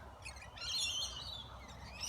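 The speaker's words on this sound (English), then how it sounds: "A couple of the parrots trying to get rid of the lorikeets so the parrots can get some food." Parrots and lorikeets chirp and squawk at a seed feeder, a dense overlapping chatter of high tweets and calls running steadily throughout at moderate distance.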